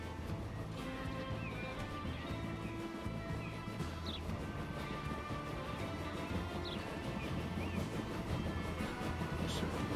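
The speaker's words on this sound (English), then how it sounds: "So now let's look at this train come out of the depot." Ore train pulling out of a depot in the Transport Fever 2 video game, a steady rumbling rail roll with rhythmic clanks and wheel squeals, continuous and moderately loud without talk.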